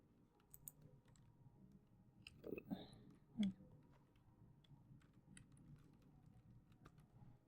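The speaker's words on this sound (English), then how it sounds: "while typing I made a typo there." Quiet, sparse keyboard typing during code editing, faint scattered key clicks with a few louder taps near the middle, under a low background hum.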